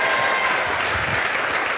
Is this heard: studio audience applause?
yes